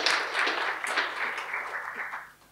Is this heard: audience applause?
yes